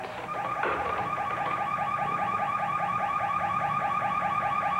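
A car alarm wails in a fast, repeating warbling cycle, loud and steady after a brief rise, with nothing else heard.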